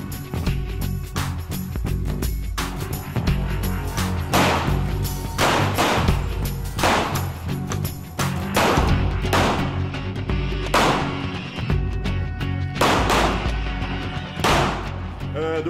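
Glock pistol shots ring out at an indoor police special intervention shooting range, a rapid series of sharp, loud reports in irregular bursts, each with a short echoing tail.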